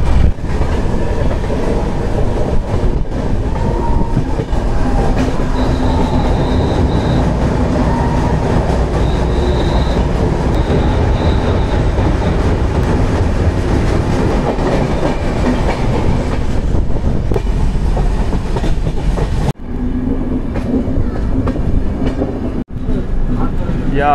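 The Amravati Express, on its Kolkata to Goa run, rolls through a mountain tunnel. A loud, steady rumble of wheels and carriages with rhythmic clatter continues throughout, then turns more muffled and hollow near the end.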